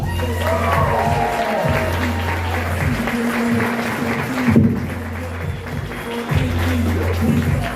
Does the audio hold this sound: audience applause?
yes